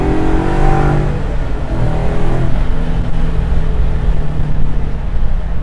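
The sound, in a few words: Coyote engine-swapped 1967 Ford Mustang Fastback accelerating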